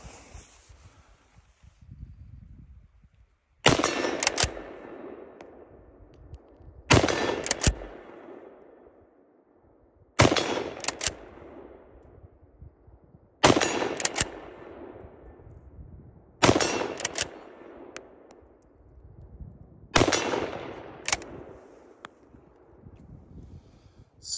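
Six sharp rifle shots from a Swiss K31 straight-pull bolt-action rifle firing 7.5 Swiss GP11 rounds at a target 50–60 yards away outdoors, evenly spaced about three seconds apart, each loud crack trailing off into a long echo, no talking.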